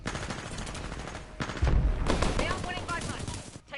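Gunfire in Titanfall 2, a burst of shots swelling at mid-clip amid busy game sound, with faint talk mixed in.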